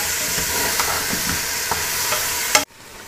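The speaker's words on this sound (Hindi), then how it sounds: "अब इसको भून लेना है अच्छी तरह।" Goat trotters with whole spices being stirred and fried in a pan: a steady, close sizzle with scraping stirs and clunks throughout, then a sudden cut to near quiet at the end.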